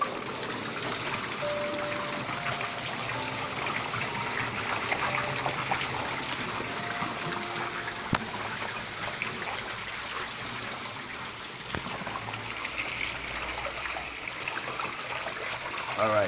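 Fresh water runs steadily into a large catfish tank, a constant trickling and splashing wash that continues throughout, with someone speaking now and then over it.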